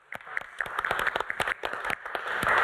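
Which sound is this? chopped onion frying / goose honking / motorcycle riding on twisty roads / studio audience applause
studio audience applause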